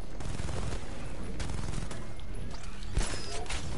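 Loud, continuous gunfire from a video game, a dense clatter of shots with sharp louder cracks scattered throughout, running steadily for several seconds.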